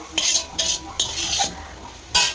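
Cabbage cooking with a fish head is stirred in a pan, giving a few scraping strokes of a utensil against the metal with a soft sizzle underneath.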